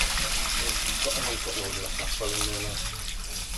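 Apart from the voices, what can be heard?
toilet flushing, water draining away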